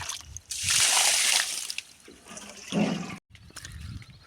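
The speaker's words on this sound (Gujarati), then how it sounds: "જો મિત્રો બેરલ ચાલ્યું છે ને બેરલ પાણીનું ચાલ્યું છે" A steady rush of water pours into a barrel at a cotton and groundnut farm, loud and splashy for about a second, then a quieter slosh and trickle with brief surges.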